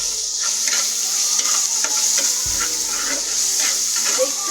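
Sliced eggplant sizzling steadily in hot oil in a pan for Bengali begun bhaja, with a continuous bright fry hiss and occasional stirring scrapes, close and alone.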